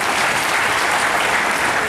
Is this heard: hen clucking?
no